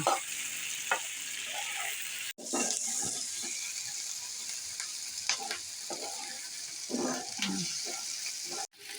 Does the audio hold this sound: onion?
yes